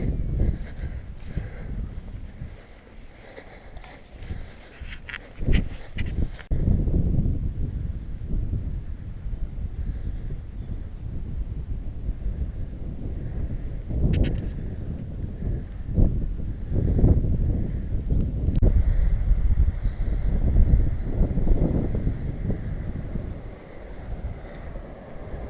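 Wind gusting across the microphone on an open hillside walk at Moel Llys y Coed, a steady loud rumbling roar with heavier bursts throughout and no talking.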